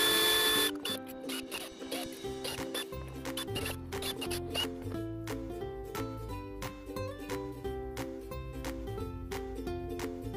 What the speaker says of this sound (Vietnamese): Giờ mình sẽ tháo ra cho anh em xem nội thất.